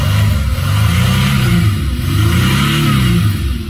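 Mercedes CLK 320 3.0 V6 diesel (OM642 engine), fixed after a limp-mode fault, revving hard: loud, close engine tone that climbs and falls in repeated swells, alone with no talk.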